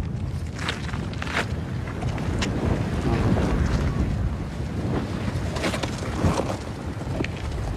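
Strong wind blows in gusts across a hot volcanic landscape, roaring and buffeting the microphone in loud surges that rise and fall throughout, with no voices heard.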